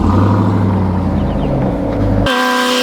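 A Ram TRX Hellcat-powered super truck climbs an off-road hill under light throttle, its engine giving a loud, close, steady low rumble that cuts off abruptly near the end.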